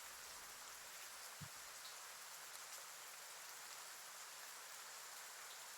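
Heavy rain falls steadily at night as a dense, even hiss of drops on surfaces, with one faint low thump early on and no voices.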